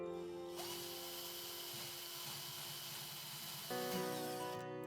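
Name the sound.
drill pre-drilling holes in drawer front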